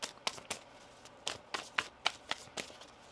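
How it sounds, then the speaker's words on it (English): Tarot cards being shuffled by hand, a series of quiet, crisp riffling bursts in an irregular rhythm, close and soft with no talking. "One more shuffle here."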